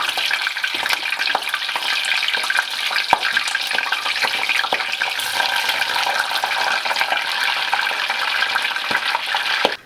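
Giant river prawns deep-frying in oil make a dense, continuous bubbling hiss, loud and close, with scattered small pops and crackles throughout.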